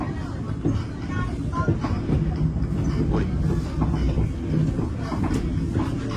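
Riding the Wuhan Optics Valley suspended sky train, with a steady, loud rumbling of the train car and a slight rattling sway throughout. Faint voices can be heard underneath.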